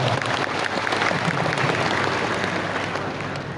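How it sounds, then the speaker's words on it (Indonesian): An audience at a PGRI Central Java provincial conference in Indonesia applauds in a dense, continuous wash of clapping. It is loud and fills the hall, holding steady and easing slightly toward the end. "saya kira tepuk tangan untuk PGRI Jawa Tengah boleh ya Pak Ketua ya"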